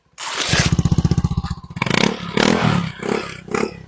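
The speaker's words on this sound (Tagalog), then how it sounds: "Naririnig niyo yung motor?" A motorcycle engine revs loudly nearby with a pulsing, throbbing rhythm, then drops into a rougher, uneven rumble as it moves past.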